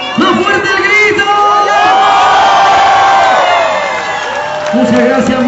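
A large crowd of schoolchildren shouts and cheers loudly at a school Fiesta de la Chilenidad in Chile, a sustained roar of overlapping whoops and yells with rising and falling voices throughout.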